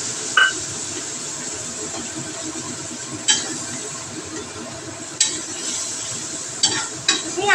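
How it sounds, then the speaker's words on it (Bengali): Coriander, cumin, dried red chilli, turmeric, salt and tomato stir-fried in hot oil in a pan give a steady close sizzle, broken by a few sharp spatula clinks and scrapes against the metal. "এবার এটাকে একটু কষাবো।"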